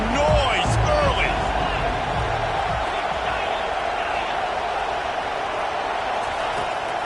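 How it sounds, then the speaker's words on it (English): A large crowd roars at an Oregon versus Ohio State college football game, a broad continuous stadium din with a brief whoop near the start, steady and enveloping for several seconds. "This crowd bringing the energy and noise early"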